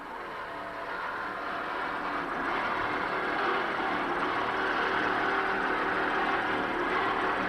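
An offshore racing powerboat engine roars at a 1995 world championship race off Key West, a steady broad rumble that swells slightly as the throttle works, distant and continuous with no talk over it.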